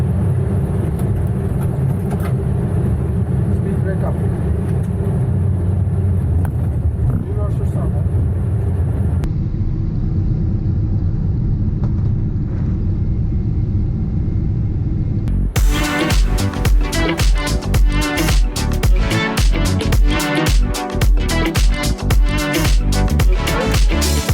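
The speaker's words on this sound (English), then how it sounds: "So there you go, we just landed at Istanbul." A passenger airliner lands and rolls out at Istanbul, a steady broad rumble of cabin and engine noise that shifts abruptly partway, then gives way to a louder busier stretch with a voice.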